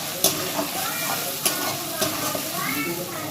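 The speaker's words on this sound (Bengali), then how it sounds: "আদা রসুনের যে পেস্টটা বানিয়েছিলাম সেই পেস্টটা দিয়ে দেব, দিয়ে একটু নেড়ে দিতে হবে।" Ginger garlic paste is stirred into fried onions in a hot pan for egg biryani, with a steady sizzling hiss and a few sharp scraping clicks of the spoon against the pan.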